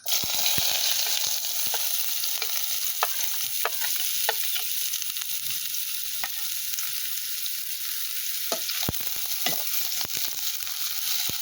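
Chopped onions fry in a pan with a steady hiss and sizzle, punctuated by repeated sharp scraping and tapping clicks as they are stirred, close and continuous with no voices.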